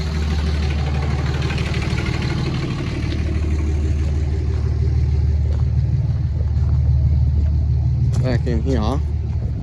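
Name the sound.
forklift engine running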